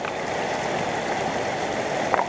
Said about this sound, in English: so that water is being directed more to where I'm working with the sluice